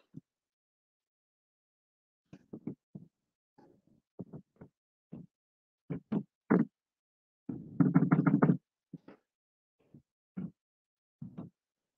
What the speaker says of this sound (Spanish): no me haga bulla con la puerta.